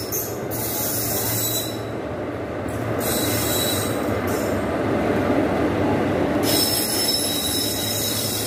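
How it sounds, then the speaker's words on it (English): The Delhi–Ambala Cantt Express rolls into a station platform. Its wheels give off loud, sustained metallic squeals that come and go over a steady rumble of moving rail cars. "Delhi Ambala Kant Express from Delhi to Ambala Kant Junction via Ghaziabad, Meerut City, Saharanpur is arriving on platform number 1."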